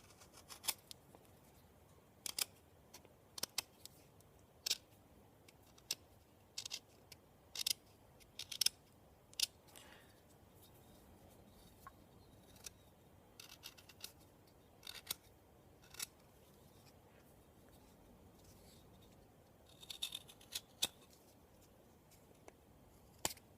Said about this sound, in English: And then we can chamfer the edges to make it look a little cooler.